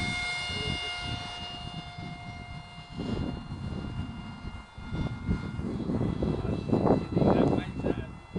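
A HobbyKing Red Arrow Hawk trainer RC model jet, flying its maiden flight after a rebuild, whines overhead, the engine tone swelling louder toward the end while people talk nearby.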